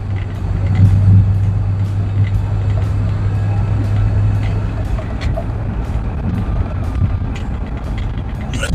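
Interior engine and road noise from a 2001 Mercury Grand Marquis with a 5-speed manual on a test drive, a steady low drone with a brief rise early on and faint clicks, no talking.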